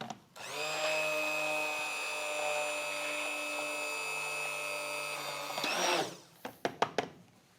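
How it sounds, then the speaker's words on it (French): An immersion blender runs steadily for several seconds, perfecting a chocolate mousse emulsion with a loud, even motor whine. It then winds down, followed by a few sharp clicks and taps. "À l'aide d'un mixeur plongeant, parfaire cette émulsion."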